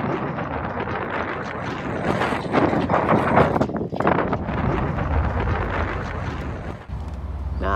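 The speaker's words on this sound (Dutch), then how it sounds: "Want het waait hier nogal." Strong wind on a boat in the Strait of Gibraltar buffets the microphone in a continuous roar, gusting louder midway, with rustling and a brief thump near the end.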